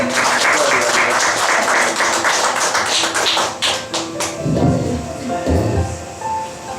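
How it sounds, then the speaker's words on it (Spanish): Church congregation claps together in a fast, dense burst of applause that fades after a few seconds, followed by someone speaking over the dying claps. "Denle un aplauso al Señor"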